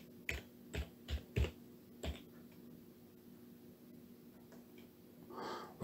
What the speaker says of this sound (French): Donc je tape mon texte.